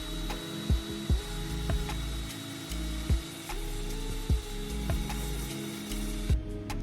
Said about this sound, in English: so that I can cut my aluminum base to that exact same thickness